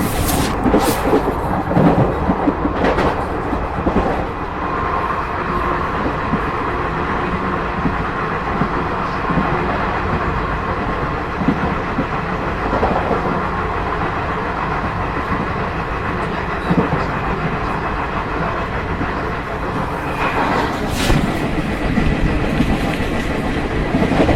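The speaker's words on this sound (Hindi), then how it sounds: "तो ये देखा आपने शांति एक्सप्रेस का ओवरटेक" A train overtaking the Shanti Express on the Indore–Ahmedabad line: a loud, continuous rumble and rattle of passing carriages with rhythmic wheel clatter, close by and lasting the whole stretch without voices.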